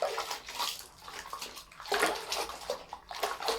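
A knitted lace shawl is hand washed in a basin of water: close, uneven sloshing and splashing as the wet wool is squeezed and swirled, with no voices.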